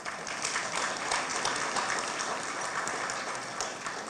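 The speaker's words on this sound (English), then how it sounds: "Another big round of applause." A summit audience breaks into a steady round of applause, dense clapping filling the room at an even level for the whole stretch, with no voices rising above it.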